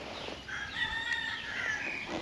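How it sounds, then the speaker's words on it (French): Roosters crow in the distance at a rural temple setting in Thailand, faint overlapping calls rising and falling over quiet outdoor ambience. "Là-bas, il y a des coqs."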